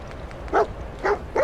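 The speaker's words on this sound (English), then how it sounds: "Doggy, shut up!" A dog in the video game Fallout 4 barks three times in short, sharp bursts spaced roughly half a second apart, close and clear over a quiet background hum.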